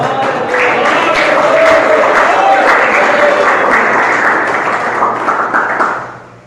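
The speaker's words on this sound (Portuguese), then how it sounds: "Exalta o Senhor com palmas." A church congregation claps steadily and loudly for several seconds, with some voices and singing mixed in, before the sound fades out at the end.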